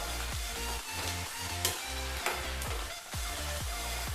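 Grated coconut roasts in a pan for a village-style mushroom curry, a continuous loud sizzle broken by rhythmic scraping stirs, with no one speaking.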